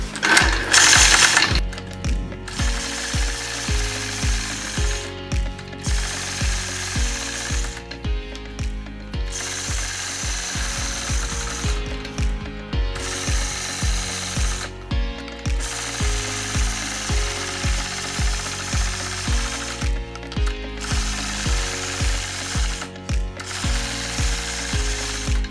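A sewing machine stitching a quilted star block runs steadily and loud, a rapid mechanical chatter pulsing in regular waves with brief pauses as the fabric is repositioned.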